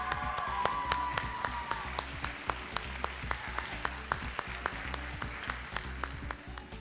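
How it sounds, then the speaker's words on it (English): An audience stands and gives a round of applause and thanks to teachers. The crowd clapping is dense and sustained, with a few sharper individual claps standing out over a low hum. "would you please join me in standing up and just giving them a round of applause and thanks?"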